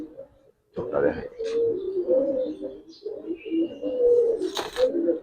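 Giribaz pigeons at a pigeon farm give soft, repeated coos, heard close by and under a man's ongoing speech.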